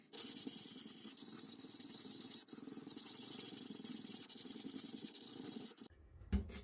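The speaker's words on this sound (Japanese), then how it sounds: "だいぶ荒砥石で磨いたんですけど" A black-forged Tsukiji Masamoto salmon-cutting knife is sharpened on a coarse whetstone, giving a steady, close, gritty scraping that runs almost without a break before stopping abruptly.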